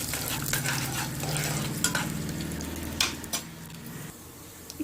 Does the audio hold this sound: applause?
no